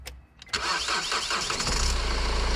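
A Honda Accord engine cranks and catches on a TOPDON JS1500 jump starter, a short churn followed by a loud, steady idle close by, with no talking.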